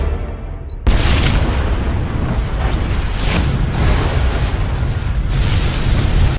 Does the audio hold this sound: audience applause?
no